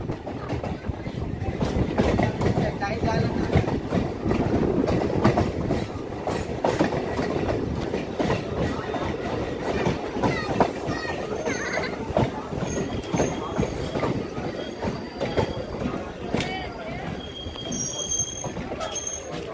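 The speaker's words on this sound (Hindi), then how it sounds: "अब यहाँ से ट्रेन खुलने वाली भी है" A passenger train at Chakand station on the Gaya–Jehanabad line gives a steady, close rolling rumble. Metallic wheel squeals and clatter stay continuous throughout.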